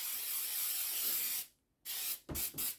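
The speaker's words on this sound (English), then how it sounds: "I'm just going to spray this right now. Let's give it a coat like you would Pam." Cooking oil sprayed from a can onto a cast iron pan: a long steady hiss, a brief pause, then several shorter bursts of spray, close and fairly soft.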